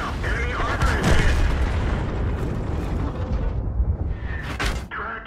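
A tank shell strikes enemy armor in a T29 tank video game, a heavy booming impact and rumbling explosion that rolls on for several seconds amid continuous battle noise and in-game voice callouts.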